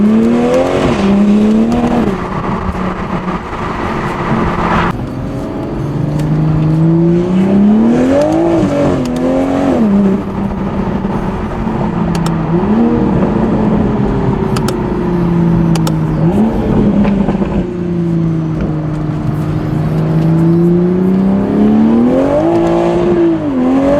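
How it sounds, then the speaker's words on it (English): A Toyota Supra engine revs repeatedly, rising and falling in loud, close swells with pitch sweeps, alone without talk. "this car sounds really good, but I still want it louder"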